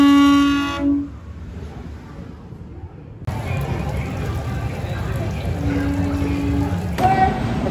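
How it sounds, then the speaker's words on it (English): A loud, sustained start horn blares at Six Flags Over Georgia, then gives way to rumbling ride motion and noise, with another brief tone near the end. "begin at the sound of the horn"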